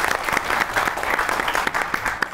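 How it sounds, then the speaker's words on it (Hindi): A studio audience at a talk-show interview claps briefly, with brisk, steady applause at moderate volume and no talk over it. "इस पे ताली होनी चाहिए नूर के लिए"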